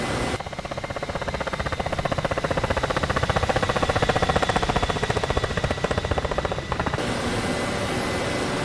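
Engines and rotors of a Ka-50 Black Shark helicopter in the DCS flight simulator drone loud and steady, with a fast rhythmic rotor throb and a brief shift in tone near the end.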